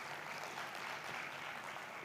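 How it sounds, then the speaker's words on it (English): Audience applause at a digital transformation summit honoring the CEO, a steady wash of many hands clapping, fairly quiet and distant, with no talk over it. "So can we clap for our CEO, who is a director at the same time of the university?"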